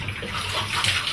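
Water from a shower hose with the head unscrewed rushes steadily into a Super 8 film developing tank, a continuous close splashing hiss with no talk.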